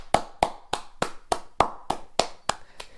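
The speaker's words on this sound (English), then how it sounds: "No clapping again, I really gotta stop doing that" A single person claps hands alone in a quiet room while reviewing wrestling, ten sharp, evenly spaced claps at a steady rhythm, close and clear with no talking.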